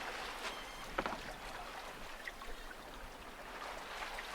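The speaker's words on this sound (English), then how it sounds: "Meantime, it's back on with the engine, sadly." A sailboat's engine gives a low, steady drone throughout at modest level off the English coast near Scarborough and Whitby, with faint wash of water and wind and no voices.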